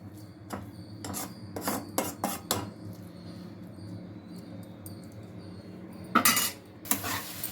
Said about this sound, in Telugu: ఎగ్స్ వేసాం కదా, మొత్తం క్యారెట్లో కలిసిపోయే విధంగా కలుపుకోవాలి.